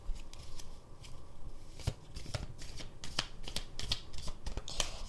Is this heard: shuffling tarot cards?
yes